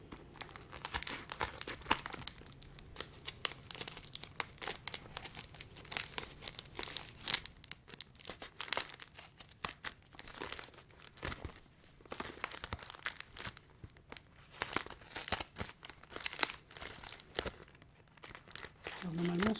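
Crinkling and tearing of the foil wrapper on a sealed Pixar trading card booster pack, close and continuous with dense bursts of crackle throughout, as in ASMR.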